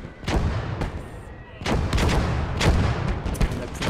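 German mortar barrage in Call to Arms Gates of Hell, a rapid series of loud, sharp detonations and booms, some close and heavy, over continuous battlefield rumble.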